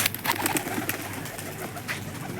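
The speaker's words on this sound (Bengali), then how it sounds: "পায়রাগুলোকে উড়িয়ে দিই, কতক্ষণ কী ওড়ে আপডেট দেবো" Pigeons are released to fly, with close, sharp bursts of flapping wings mixed with soft cooing, busy and irregular throughout.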